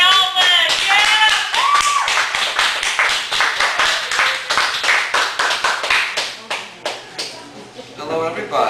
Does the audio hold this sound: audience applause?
yes